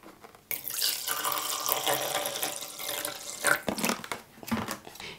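Tap water runs steadily into a 500 ml bottle while a homemade natural cleaning spray is mixed, a continuous close splashing fill with brief pauses and clinks near the end.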